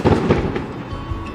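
Far-off fireworks pop and rumble in rapid succession near a desert road in China, a steady roll of muffled booms that is loudest at the start, then eases into a softer continuing crackle.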